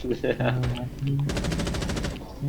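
Rapid automatic gunfire in Rainbow Six Siege as a player shoots out a camera, a dense burst of shots near and loud, with a voice talking briefly before it.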